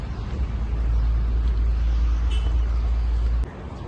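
A car on a Pune to Bodhgaya road trip moves along with a loud steady low road and engine rumble that drops off sharply near the end, no one talking.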